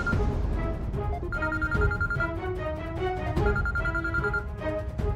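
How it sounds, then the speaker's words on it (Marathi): A telephone rings in repeated patterned bursts, a melodic electronic ringtone cycling about twice over a low background hum, fairly close. "हायकमांडचा फोन."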